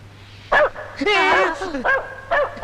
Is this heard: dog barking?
yes